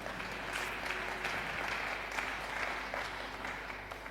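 A church congregation applauding during a sermon, a steady wash of many hands clapping that fills the room and carries on evenly from start to finish.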